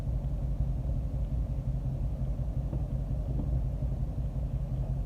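A 2019 Dodge Challenger 392 V8, freshly fitted with a replacement transmission, idles with a steady, deep rumble close by and no talk.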